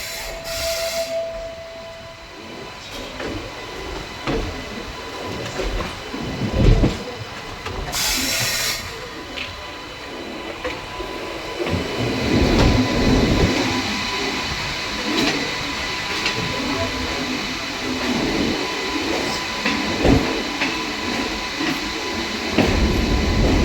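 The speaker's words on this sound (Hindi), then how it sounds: "अपनी ट्रेन कर्व ले रही है आनंद विहार टर्मिनल स्टेशन से।" Special train hauled by a WAP-5 electric locomotive curving out of Anand Vihar Terminal, with a steady close rumble of rolling wheels and car noise, occasional hissing bursts and rattles throughout.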